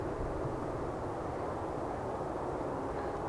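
An Emirates airliner moves along the runway at Manchester Airport, heard as a steady, broad, distant engine roar that stays even and unbroken throughout, with no voices.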